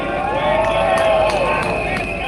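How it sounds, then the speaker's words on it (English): A rally crowd at a Singapore general election event cheers in the rain, a steady dense roar of many voices sustained throughout with no breaks. "give yourself the biggest cheer, everybody!"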